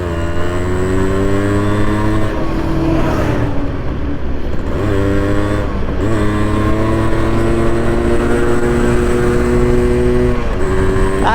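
A Honda CD 100 motorcycle engine idles and revs steadily up close, its loud continuous drone dipping and rising again several times with no voices.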